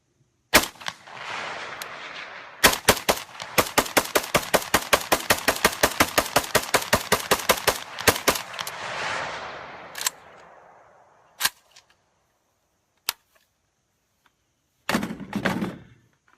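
Rapid bursts of gunfire from an AK rifle fed by a P-Mag magazine, a few single shots then a long fast string of sharp cracks with echoing tails, followed by scattered isolated shots and a short final burst.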